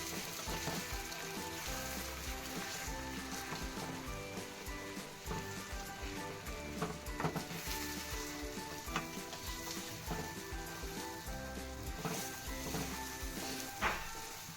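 Egg bhurji sizzles steadily in a hot pan over high flame, the beaten eggs just salted, while a spatula stirs and scrapes through the mix with scattered clicks over a continuous frying hiss.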